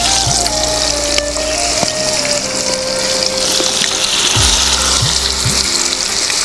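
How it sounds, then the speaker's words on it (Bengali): Large pieces of Briget fish fry in hot oil with a loud, close, continuous sizzle and bubbling. Occasional clinks and tonal squeaks cut through, and no one speaks. "আগে মাছগুলো ভেজে নিই"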